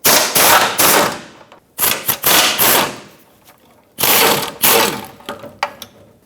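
A ratchet wrench removes 16 mm oil pan bolts on a 2008-2012 Jeep Liberty 4x4, with loud, close bursts of rapid clicking in three main runs separated by short pauses and no voices.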